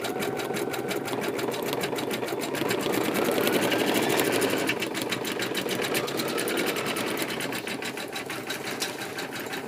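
A Baby Lock Flourish embroidery machine stitches steadily on fabric backed with Heat n Bond Lite, its rapid rhythmic needle chatter and motor whir loud, close and continuous throughout without pause.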